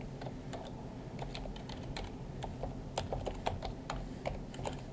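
Fingers type an email address on a computer keyboard, a quick irregular run of close, light key clicks over a soft steady background hum.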